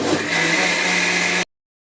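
A mixer grinder whirs loudly and steadily as it blends dhokla batter, running alone at close range for over a second before cutting off abruptly into silence.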